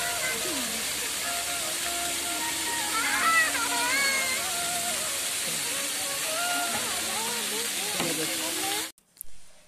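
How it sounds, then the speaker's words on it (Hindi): An artificial waterfall in a bird park gives off a steady rushing hiss of falling water. A voice talks over it and bird calls are faintly heard, before the sound cuts off abruptly near the end. "ये देख सकते हैं पीछे वाटरफॉल बनाया गया है, कितना प्यारा लग रहा है।"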